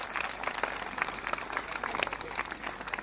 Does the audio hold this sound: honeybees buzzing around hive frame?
no